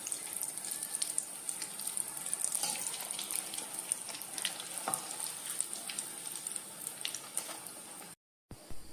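Sukhiyan, sweet green gram balls dipped in batter, deep-frying in hot oil, giving a steady bubbling sizzle that runs nearly throughout, with a few brief louder crackles and a short drop to silence near the end.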